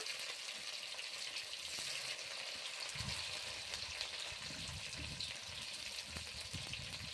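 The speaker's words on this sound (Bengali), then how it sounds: "তেজপাতা আর শুকনো লঙ্কা ফোড়ন দিয়ে দিলাম" Bay leaf and dry red chilli, along with cardamom, sizzling in hot oil while jackfruit dalna is cooked, a steady close crackling hiss with a heavier spluttering layer coming in partway through.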